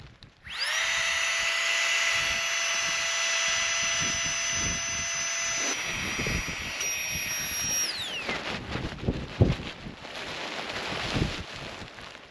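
Small air pump inflating camping kit, a loud high electric whine starting abruptly and holding steady, shifting pitch twice before cutting out, followed by rustling and clatter close by.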